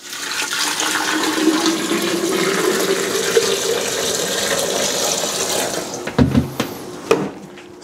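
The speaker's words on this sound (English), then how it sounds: "Okay, and then gallon of water." A gallon of water pours steadily into a container for making iced tea, a continuous rushing splash that runs for several seconds before ending in a few knocks and clunks.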